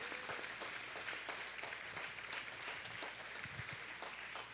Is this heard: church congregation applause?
yes